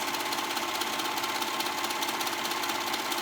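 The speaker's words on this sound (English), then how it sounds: "finished edge that the serger gives it. So that's what I'm doing." A serger overlocks a fabric edge while a maxi dress is being sewn, giving a loud, steady mechanical whirr that drones without a break. No one speaks.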